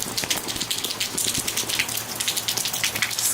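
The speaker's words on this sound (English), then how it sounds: "That's all we're feeling right now is just a little bit of rain." Light rain falling during Hurricane Irma under a white sky, a steady close hiss of drops pattering on surfaces with no voices.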